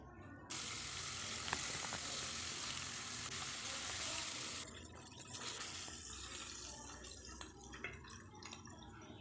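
Fish frying in hot oil in a home kitchen, a steady broadband sizzle that holds loud for about five seconds and then thins into softer, crackling pops and drips.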